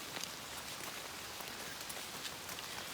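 Heavy rain pouring down on a gravel road along a hiking trail, a dense steady hiss with scattered sharper drop impacts, continuous and faint with no voices.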